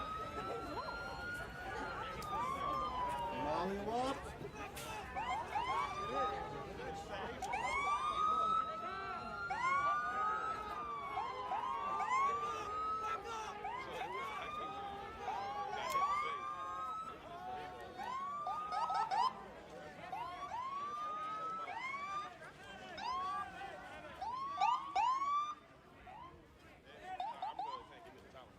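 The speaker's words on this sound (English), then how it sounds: "Let the ambulance through." An ambulance siren wails through a street protest, its rising and falling sweeps repeating steadily at a moderate distance beneath ongoing talk and crowd noise.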